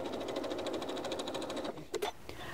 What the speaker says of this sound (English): go to the sewing machine and stitch along that diagonally drawn line